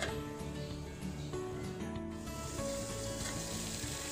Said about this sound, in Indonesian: Air sudah mendidih dan akan saya masukkan sedikit garam.